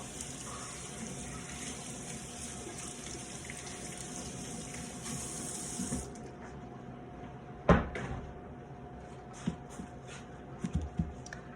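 Cilantro is washed under a running kitchen tap: a steady hissing stream flows for about six seconds, then stops, leaving a few faint knocks and handling clatter.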